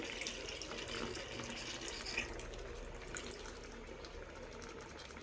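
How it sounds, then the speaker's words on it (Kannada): Water from about half a bottle pours steadily into a pan of aloo soya chunks curry, a continuous faint splashing trickle with no talking. "ಕಾಲಿಂದ ಒಂದು ಅರ್ಧ ಬಾಟ್ಲಷ್ಟು ನೀರು ಹಾಕ್ತಾಯಿದ್ದೀನಿ"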